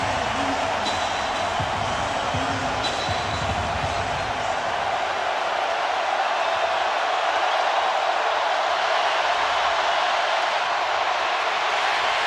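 A football stadium crowd roars in a dense, steady wall of noise throughout, with some low rumbling early on.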